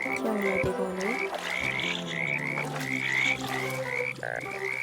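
Frogs croak in a dense, continuous chorus, with repeated rising chirping calls over a steady layered background, loud and close throughout.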